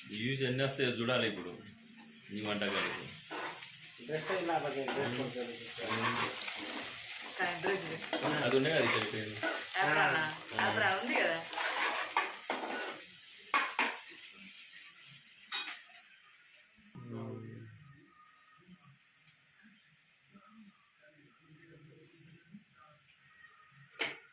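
Onions with ginger-garlic paste fry in a pan for a chicken curry, a soft sizzle with stirring scrapes under someone talking, then quieter frying with occasional clinks once the talk stops.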